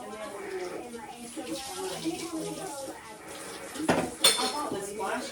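Dishes being washed in a home kitchen during cleanup, with running water from the tap, steady clinking of plates and cutlery, and a couple of louder clanks near the end, while a person talks over it.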